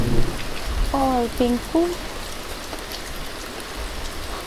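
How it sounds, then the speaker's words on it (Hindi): Heavy rain falls as a steady, broad hiss throughout, with a voice speaking briefly over it near the start. "चारों तरफ बादल घिर आए हैं और सूरज बादलों के पीछे छुप गया है, तेज घनघोर बारिश हो रही है"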